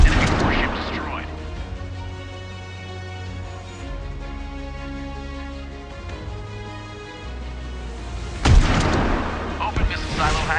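Warship missile launches and explosions in a mobile naval combat game, with deep booming blasts and a sharp crack near the end over a sustained low rumble, while a voice gives commands throughout.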